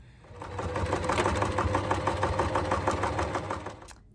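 Close, loud sewing machine runs steadily, stitching a 1.5 cm seam allowance across the notched top edge of a quilted jacket's outer pocket, with even rapid stitch pulses for about four seconds.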